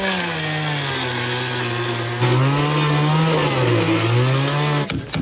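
A loud chainsaw running close by, engine pitch dipping and rising as it bites into foam, then cutting off abruptly near the end.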